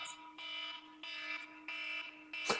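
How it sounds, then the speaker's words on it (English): An electronic alarm beeps in a steady repeating pattern of four long, shrill pulses with short gaps, heard fairly clearly in a room, ending with a brief click. "Whose alarm going off?"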